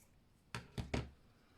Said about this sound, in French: On va couper le surplus.